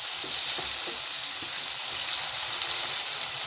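A single medium onion fries in a pan with a loud, steady hiss of sizzling oil and soft stirring scrapes underneath, close and continuous.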